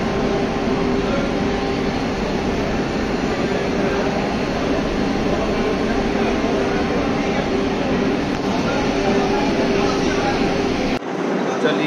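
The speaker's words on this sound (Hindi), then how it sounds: "ये रही हमारी ट्रेन।" Vande Bharat Express, the Howrah–New Jalpaiguri service, at Malda Town station, giving a steady loud rumble of train and station noise that holds throughout and cuts off abruptly near the end.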